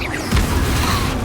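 An Incendio fire spell cast in Hogwarts Legacy, a loud dense burst of rushing flame and whooshing mechanical noise that starts abruptly and keeps going.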